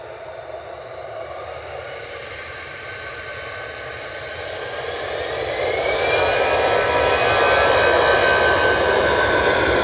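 An Aer Lingus Airbus A320-200 jet departing Manchester Airport for Dublin roars steadily, growing louder over the final seconds as engine thrust builds, with a rising whine threading through the broad rumble and no voices.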